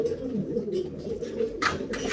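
Domestic pigeon in a pigeon loft, cooing in low repeated rolling notes, close and steady, with faint background noise and no clear talk.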